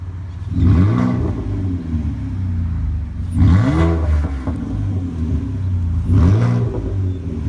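A car engine revs three times with the electric exhaust cutout opened, each rise giving a loud, deep, throaty blip that swells and falls back to a steady rumbling idle, heard close.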